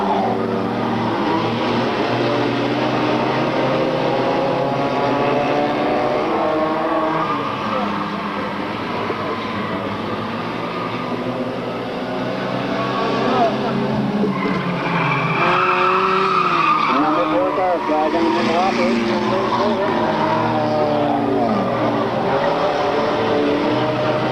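Race cars, including a Saturn, battling for position on a track, with steady engine roar, rising and falling revs and squealing tyres near the middle, while a commentator talks over it.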